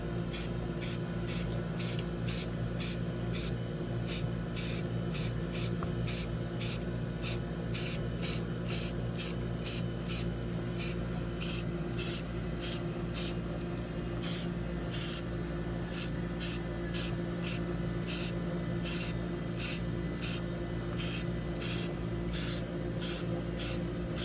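A spray can hisses steadily and close on a 1969 Camaro sign for over twenty seconds, one continuous spray punctuated by regular short bright clicks or pulses, with no voices.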